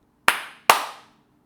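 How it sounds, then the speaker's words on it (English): Two sharp hand claps about half a second apart, close and loud in an otherwise quiet garage, meant to switch on a Clapper-controlled light. "If the clapper works as advertised, we should be able to clap twice and the light turn on"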